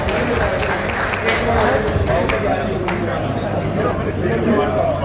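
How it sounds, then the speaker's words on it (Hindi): An audience at a Hindi-speaking welcome ceremony with garlanding claps steadily and densely throughout, the loud continuous applause mixed with a murmur of crowd noise. "ताली ताली चालो।"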